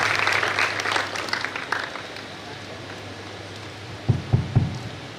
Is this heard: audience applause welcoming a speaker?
yes